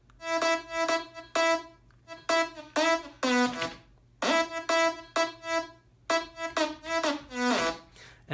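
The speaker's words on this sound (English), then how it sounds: "but then I layered it with another synth." An extra synth layer for a festival-style dance track plays pulsing chord stabs in repeating bursts with brief gaps, fairly loud and steady over a faint low hum.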